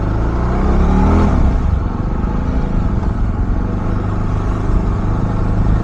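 A Jawa 42 Bobber BS6 2024 cruiser motorcycle rumbles loudly and close, its exhaust revving and pulling away during a ride, with a steady throaty drone and a rising surge near the start.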